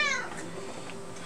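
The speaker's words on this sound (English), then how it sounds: "That's my cat." A pet cat meows once, a short rising call near the start, then fades into quiet room tone with no talking.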